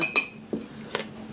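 A spoon clinks against a coffee cup a few times in quick light taps, close and clear, in an otherwise quiet room.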